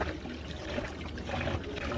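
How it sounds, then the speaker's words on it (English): Cold tap water runs steadily over raw chicken being rinsed for Ghanaian pepper soup, a continuous close trickle and splash of moderate loudness with no voices. "under running cold water."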